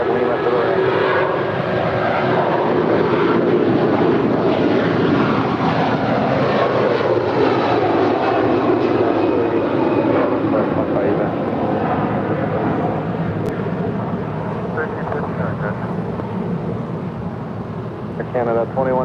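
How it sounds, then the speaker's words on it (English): An Air Canada Airbus A330-300 airliner takes off on the south side at LAX, a loud sustained jet engine roar that swells and slowly fades, with radio chatter faintly underneath. "Star Alliance, Air Canada, A330-300 taking off here on the south side"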